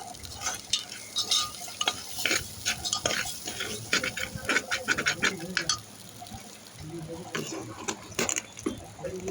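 Ginger paste stirred in a pot while making butter khichuri without oil, with a spoon scraping in busy, uneven strokes that pause briefly midway, close and fairly loud.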